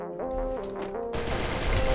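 Gunfire in the mobile battle game Free Fire: a dense, loud volley of shots over steady game music and tones, building into a harsher continuous burst near the end, with no talking.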